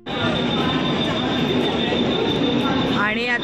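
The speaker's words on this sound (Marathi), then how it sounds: "आणि आता आपली ट्रेन आलेली आहे वंदे भारत" A Vande Bharat train pulls into a station with a loud, sustained rolling roar and a high metallic wheel squeal, and a voice briefly speaks near the end.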